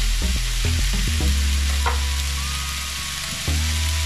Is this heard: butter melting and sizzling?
yes